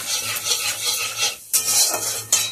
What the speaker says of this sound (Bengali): দেখো আমি কি ফোড়ন দিলাম, জিরে ফোড়ন দিলাম।